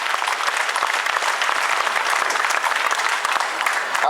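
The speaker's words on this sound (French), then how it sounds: "Et les applaudissements du public pour le leader de ce championnat" Rally spectators at a roadside stage applaud the championship leader, a loud, dense, continuous burst of clapping from a close crowd with no break.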